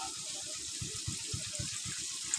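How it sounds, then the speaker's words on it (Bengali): Coconut milk strained from freshly grated green coconut pours and trickles steadily in a kitchen, with soft continuous liquid splashing and faint drips and no voices. "এই দেখুন আমি ছেঁকে নিচ্ছি আবার দুধগুলো ছেঁকে নেবো"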